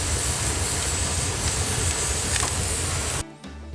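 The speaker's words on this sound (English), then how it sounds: "It's quite impressive to watch the steam shoot out of the wood as it heats up." Wet wood burning in a modified wood stove that heats a greenhouse gives off a steady, loud, continuous steam hiss that drops away abruptly near the end.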